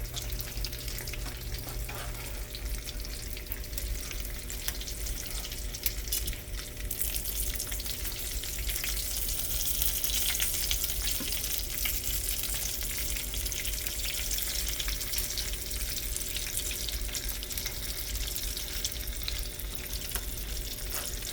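Trout fillets crackle and sizzle steadily in a hot pan on high heat, a continuous bright frying hiss close up with small pops, no voices.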